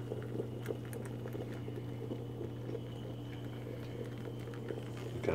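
Freshly brewed Cuban espresso is poured onto sugar in a kitchen, giving a quiet, steady liquid trickle and patter over a constant low hum.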